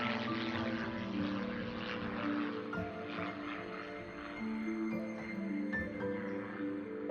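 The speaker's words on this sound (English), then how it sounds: "A plane circles above" A propeller plane circles overhead, its steady droning engine hum holding throughout at moderate distance with slight swells, heard alone in an outdoor spring setting.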